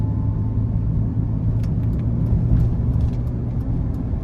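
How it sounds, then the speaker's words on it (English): A 2016 Ferrari California T with a 3.9-litre twin-turbo engine pulling out of a corner, a steady deep engine drone heard from inside the cabin, loud and continuous with faint ticks above it. "I'm gonna try and get one good pull coming out of this corner here"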